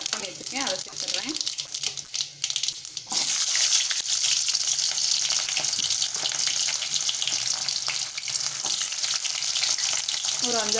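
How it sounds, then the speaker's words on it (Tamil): Small onions dropped into hot sesame oil with popping mustard seeds, tempering for an eggplant kara kulambu: a loud, dense, continuous sizzle close up, jumping in intensity partway through as the onions hit the oil, with occasional stirring scrapes. "கடுகு நல்லா பொரியட்டும். இந்த சின்ன வெங்காயம் கட் பண்ணி வச்சுருக்கேன், அதை சேர்த்துடுறேன்."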